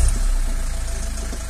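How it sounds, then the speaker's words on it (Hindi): A Mahindra XUV500 SUV engine runs at a steady, low idle right after an immobilizer reset, with a close, even rumble and a slight regular pulse throughout. "तो अब देख सकते हैं कार भी स्टार्ट हो गई है इजीली।"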